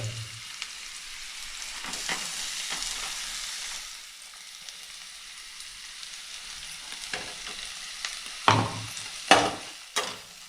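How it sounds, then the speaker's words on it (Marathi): Green peas sautéed in a pan give a soft, steady frying hiss broken by intermittent stirring scrapes, with a few louder knocks of the spoon near the end and no talking. "चांगलं परतून घेऊ"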